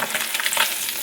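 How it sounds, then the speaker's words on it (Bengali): Fish rubbed with salt and turmeric fries in a pan, a brief close burst of dense crackling sizzle with a light stir, no speech. "ভাজছি মাছ"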